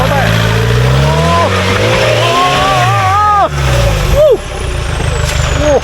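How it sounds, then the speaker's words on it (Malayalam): Off-road vehicle engine revving hard and shifting pitch as it climbs a steep, tilted slope during a group off-road outing, loud and close with voices talking over it. "അതുപോലെ ചെരിഞ്ഞാണ് വണ്ടി കയറുന്നത്."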